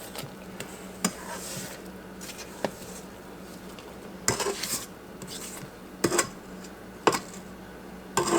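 A spatula scraping down a mixing bowl while pound cake batter is made, giving scattered light clinks and scrapes against a low steady hum, with sharper knocks at intervals.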